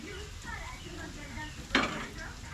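Moringa leaves drop into scrambled egg cooking in a pan, setting off a brief loud sizzling burst over soft background stirring and frying.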